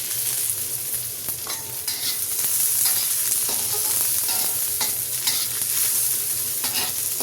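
Chopped onion with garlic frying in a pan for noodles, a steady close sizzle with intermittent stirring scrapes throughout, no talking.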